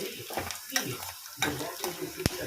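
Peanuts fry in hot oil with green chillies and curry leaves for tamarind rice tempering, a close, uneven sizzle with scattered soft crackles and one sharp pop near the end.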